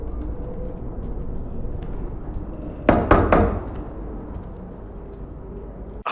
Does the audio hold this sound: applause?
no